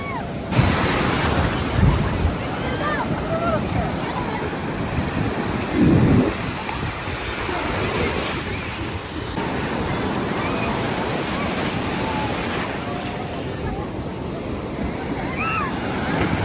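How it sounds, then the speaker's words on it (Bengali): Powerful ocean waves crash and roar on the beach at Cox's Bazar, a loud continuous surf with heavy wind buffeting the microphone and occasional voices underneath. "ঢেউ।"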